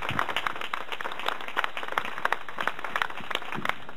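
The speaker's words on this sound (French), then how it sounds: "je voudrais que vous les applaudissiez très très fort, ces bénévoles" An audience at a French association gathering gives steady applause for volunteers, dense overlapping claps with a few sharper hand claps standing out, continuous and moderately loud throughout.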